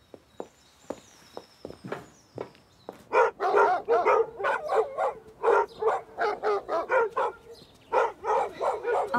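Several dogs bark loosely outdoors, a handful of sharp barks at first followed by a rapid, irregular run of repeated barks and yips, fairly close and clear with little else around.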